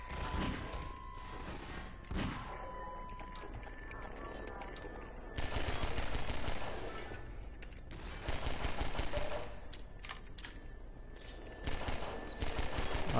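Gunfire in Half-Life 2: scattered shots, then rapid bursts of automatic fire in loud clusters separated by quieter stretches, with a player talking in between.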